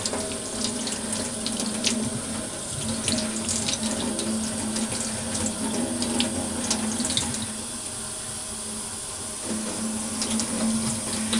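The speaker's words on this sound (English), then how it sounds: "and then I rinse it off." Running tap water rinses the foamy bristles of a makeup brush as it is worked back and forth along a hand, a steady close splashing hiss at a sink that continues throughout.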